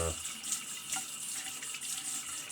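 Tap water runs steadily into a sink as a razor is rinsed under the stream, a close, continuous splashing hiss.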